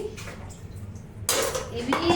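Dishes being washed with water from a water purifier, low clinks of bowls and utensils, then a sudden burst of running, splashing water near the end.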